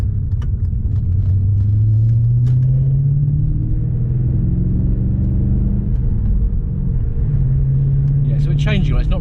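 An MG ZT 260 rumbles low and burbly while driving gently on the road, its engine note heard from inside the car as a steady deep drone with a slow rising pitch, under a person talking.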